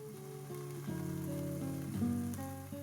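Lentils sautéing in a single pan with garlic and ginger, a quiet steady sizzle with a faint droning tone shifting underneath, heard alone for a few seconds.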